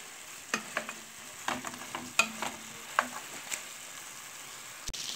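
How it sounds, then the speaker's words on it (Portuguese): Pork ribs frying in a pot, a soft continuous sizzle broken by scattered scrapes and knocks of a utensil stirring and turning the meat, close but fairly quiet, with no talking. "você vai fazendo essa fritura aqui e espetando o garfo pra ver se ela, se a carne já tá mole"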